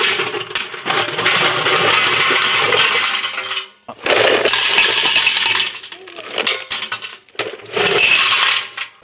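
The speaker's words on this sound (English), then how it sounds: "So we're going to fill this up with a bunch of old hardware." Old steel hardware, nuts and bolts, poured into a parts tumbler: loud metallic clattering and clinking in several bursts with short pauses between handfuls.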